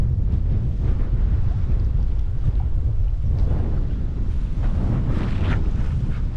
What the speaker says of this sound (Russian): Вот такой вот, друзья, ветер.